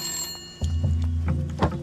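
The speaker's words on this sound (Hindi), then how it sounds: "विधायक जी का फोन है।" A telephone rings in a Hindi film scene at a school, a steady electronic ring sounding in short repeated bursts over low background tones.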